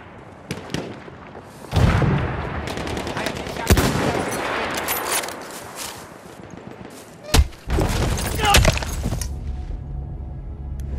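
Machine-gun bursts and scattered gunfire crackle through a chaotic Battlefield 1 battle, loud and repeated, mixed with explosions and shouting voices in the background.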